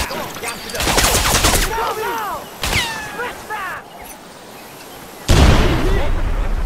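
Gunfire in the video game Crysis Remastered, loud bursts of automatic rifle fire and sharp shots in a chaotic firefight, with brief lulls between volleys and a shouted voice over the action.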